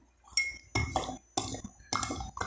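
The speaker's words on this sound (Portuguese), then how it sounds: "Vou adicionar o soluto, que é o mesmo, sal de cozinha." A spoon clinks against a glass as table salt is added, four short bright taps and scrapes spaced about half a second apart, close and quiet.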